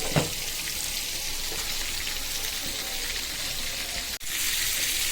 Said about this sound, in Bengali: এবার আমি মাছগুলো দিয়ে দিব।